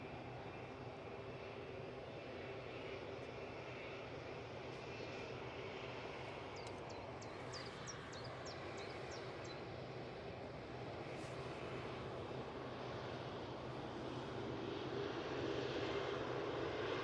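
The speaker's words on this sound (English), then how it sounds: "So, next in, we've got the Ryanair coming in from Belfast." A Ryanair Boeing 737-800 arrives at Manchester Airport, a faint, distant jet whine and rumble that builds slightly toward the end, with a few brief chirps heard in the middle.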